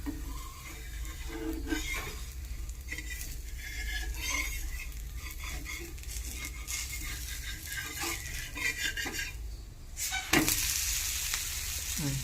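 Rava dosa batter sizzles on a hot pan in a continuous crackling hiss, with occasional utensil clinks and a sharper knock near the end.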